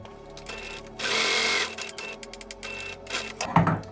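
A sewing machine stitches around the edge of a homemade fabric face mask with an elastic track, running in a steady close burst that stops and restarts, with a few clicks and handling noises between runs.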